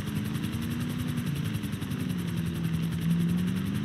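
Police helicopter flying overhead in a FiveM police roleplay game, a continuous rotor thrum and engine drone, steady and moderately loud throughout.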